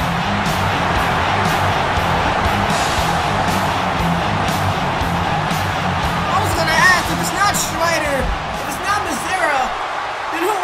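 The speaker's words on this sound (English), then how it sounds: "This London crowd is going insane." Loud roaring arena crowd at a WWE 2K wrestling event in London's O2 Arena, cheering and whooping continuously, with commentators talking over the din.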